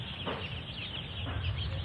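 Two-day-old poultry chicks in a brooding shed chirp as a soft, steady chorus, a faint high twittering that runs continuously in the background without pauses.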